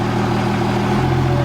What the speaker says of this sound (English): if you guys hear that different sound of the exhaust, like it's trying to lock up